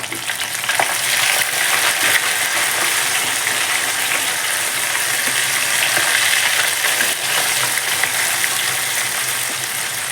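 Sweet corn kernels deep-frying in a pan of oil to make crispy corn, a loud, steady, dense sizzle and crackle that runs unbroken throughout with no talking.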